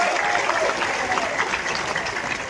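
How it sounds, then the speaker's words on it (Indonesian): Audience applause for a regional head (bupati) at an outdoor farm visit in Patalassang, Gowa, a dense steady clatter of many hands filling the whole stretch with no voice on top. "Tepuk tangan, Doya."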